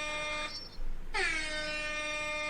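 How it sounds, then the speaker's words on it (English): Loud, blaring air horn blasts, one short then a brief gap and a longer sustained blast, harsh and close. "you hear air horns first off."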